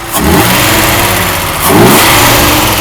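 A Mercedes-Benz R107 280SL engine revs up twice, rising in pitch each time with a brief dip between, loud and close, the engine barely moving on its worn, flattened mounts.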